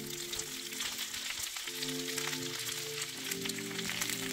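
Spinach and garlic fry in oil in a skillet over medium-high heat, giving a steady, close crackling sizzle that fills the whole stretch without any voices.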